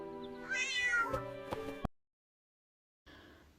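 A single close, clear cat meow, drawn out and rising then falling, followed by a short silence and faint room noise.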